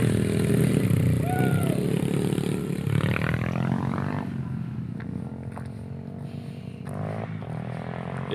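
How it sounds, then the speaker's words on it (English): Motorbikes ridden illegally nearby at a stealth campsite, a loud rough engine drone with revving swells that stays strong for several seconds, then eases back to a steadier, slightly quieter hum. "Illegally riding motorbikes."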